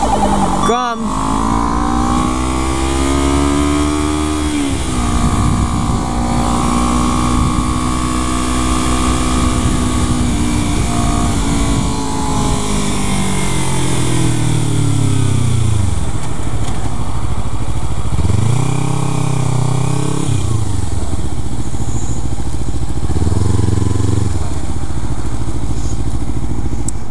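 A Kawasaki Ninja ZX-3R and a Grom motorcycle run nearby, with engines droning and revving and pitch rising and falling through gear changes and passes. Riders talk throughout under the engine noise.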